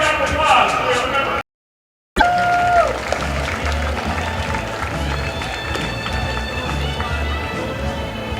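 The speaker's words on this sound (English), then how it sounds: "Give Jeff a big round of applause." Steady crowd applause and cheering fill a baseball stadium during a Southern Maryland Blue Crabs versus Sugar Land Skeeters game, a broad continuous wash of clapping with a PA announcer talking over it and a brief dropout early on.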